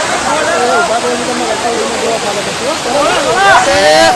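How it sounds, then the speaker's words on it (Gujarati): Paniyari waterfall near the ashram gushes with a loud, continuous roar of falling water while several people talk and call out over it nearby. "તમે જુઓ તો પાણીનો ધોધ એક નંબર"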